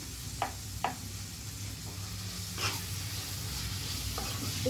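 Fried rice is stirred in a hot pan with a steady sizzle, while a few sharp scraping strokes of the spoon stand out against the frying. The cooking is close and fairly quiet, with no one talking.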